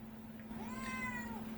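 A pet cat meows once indoors, a single drawn-out call rising and falling over about a second, heard close and fairly clear above a steady low electrical hum, with no talking.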